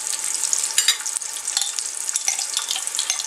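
Coarsely chopped onion sizzles steadily while frying in a pan, a continuous bright crackle with occasional sharper pops and stirring scrapes, close and alone with no talk.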